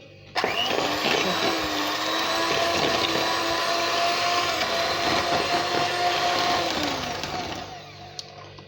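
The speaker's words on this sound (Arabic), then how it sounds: "نخلط المكونات كامل هذو بالباتور" An electric hand mixer beats margarine or butter with sugar and eggs into a creamy batter for a Ramadan pastry, its motor droning loud and steady for several seconds before easing off at the end.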